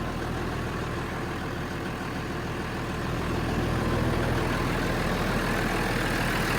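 A cold engine runs at a steady idle, a loud continuous rumble that grows slightly louder partway through.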